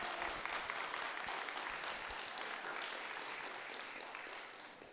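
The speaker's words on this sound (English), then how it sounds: "we do applaud when we say we're on Indian land" An audience at a talk on Native American activism in Chicago claps together in a dense, full round of applause lasting about five seconds. The applause fades slightly toward the end.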